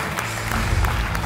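Studio audience on a Georgian TV game show claps as a contestant leaves, a dense, loud, continuous burst of applause filling the short moment.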